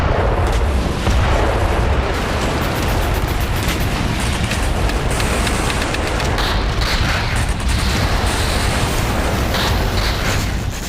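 Israeli army bombardment, with dense, continuous rumbling blasts and booming fire that roll together without pause, loud and close-sounding throughout, no voices.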